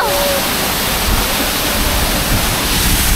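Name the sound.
waterfall in Bohol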